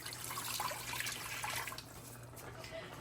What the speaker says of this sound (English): Going in with 3 cups of water.